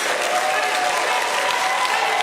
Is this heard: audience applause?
yes